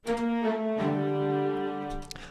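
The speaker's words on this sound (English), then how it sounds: "I have the strings coming in doing just that" A synth string-like pad enters with sustained held notes, moving through a short phrase of a few tones, steady and moderately loud with no talking.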